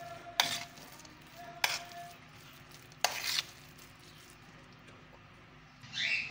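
Boiled potatoes being mashed for cutlets: three sharp knocks of the masher against the bowl, spaced about a second apart, with faint scraping in between and a soft rustle at the end.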